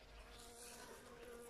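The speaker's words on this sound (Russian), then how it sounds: "пчелы прям гудят." Bees buzz around a vegetable garden in a steady, continuous drone, a soft hum with no voices over it.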